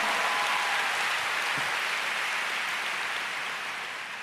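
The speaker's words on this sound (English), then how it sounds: "Let's give the most high God a big clap." A church congregation gives a sustained round of applause, a dense, even wash of many hands clapping that fades slightly toward the end.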